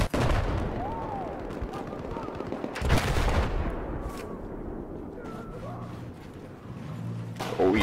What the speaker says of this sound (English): the gunfire is getting pretty heavy here